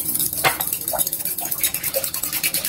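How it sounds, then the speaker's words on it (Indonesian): A spoon scrapes and clinks around a bowl while an egg is stirred into sugar-sweetened yeast water, a quick rhythmic swishing of small, close strokes with no voices. "Tambahkan 1 butir telur ayam dan aduk kembali."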